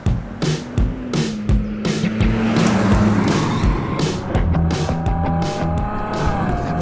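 A Ferrari GTC4 Lusso with a V12 engine accelerates hard on an open road, its engine note climbing through gears with rising tones and brief gaps at shifts, loud and close throughout with no talking.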